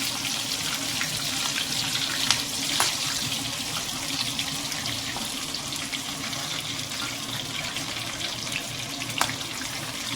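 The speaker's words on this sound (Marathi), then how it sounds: "आता आपण याला फुल फ्राय तळून घेऊ।" Chicken pakoda deep-frying restaurant-style in oil on full heat gives off a steady, loud bubbling sizzle with occasional small pops throughout.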